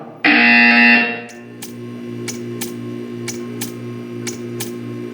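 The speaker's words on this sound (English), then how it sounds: "When you hear the buzzer, stare at the art." A harsh electronic buzzer in the video game Portal 2 blares for about a second, then stops, followed by a quiet hum and a series of regular soft ticks.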